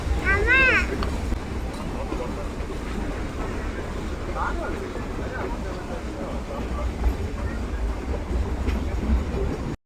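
A continuous low rumble and clatter of the Ooty toy train running, with a brief high whistle-like tone at the start and faint voices.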